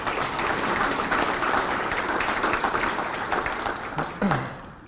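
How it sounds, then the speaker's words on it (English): Round of applause at a coin dealer Hall of Fame induction for Steve Ivy, a full, steady crowd clapping from the start that thins slightly before a last brief flurry and fades. "that's worth a round of applause"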